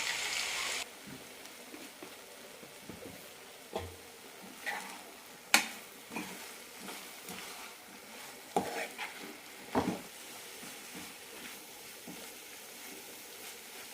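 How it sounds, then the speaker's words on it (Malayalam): Curry leaves fry in a tablespoon of coconut oil over a low flame for an Onam sadhya dish. A soft, continuous sizzle runs under the occasional stir and clink of a spoon, close and quiet, with no talk. "ലോ ഫ്ലെയിമിലിട്ട് നന്നായി വലിയിച്ചെടുക്കാം"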